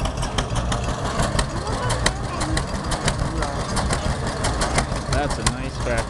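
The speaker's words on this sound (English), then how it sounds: "That's a nice tractor, isn't it?" A tractor engine idles with a steady low chugging rumble, close by, while people talk over it at a sawmill.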